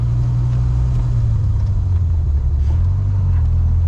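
A Dodge Viper's engine gives a deep, steady rumble as the car accelerates, heard as a loud, continuous low drone from inside the cabin.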